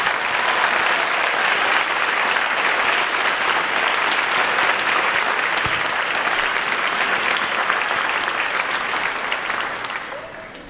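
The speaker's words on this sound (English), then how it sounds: "Let's give them a final round of applause." Sustained applause from an audience at an eighth-grade school awards ceremony, steady and dense for about ten seconds before tapering off at the end.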